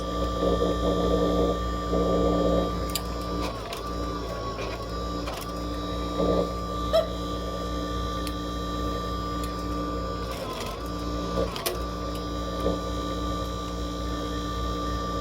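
A spiral coil binding machine from Epoium runs with a steady electric motor hum and mechanical whir, punctuated by a few sharp clicks and clunks, fairly close and continuous with no talking.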